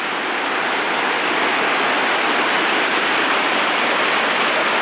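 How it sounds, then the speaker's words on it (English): Water rushes over a weir on the River Soar near Sileby Mill, a steady, loud, broadband roar of churning flow that continues without pause throughout. "And that's the actual weir."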